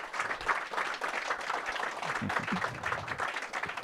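Audience applause rises for author Don Winslow at a book talk, a soft, fairly distant spread of clapping that holds evenly, with a few low voices murmuring underneath.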